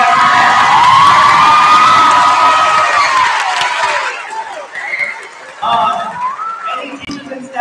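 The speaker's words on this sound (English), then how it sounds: "I want to give a big round of applause to Ms." Audience cheering and whooping at a middle school winter choir concert, loud and sustained for about four seconds with children's shouts, then fading into scattered voices and chatter.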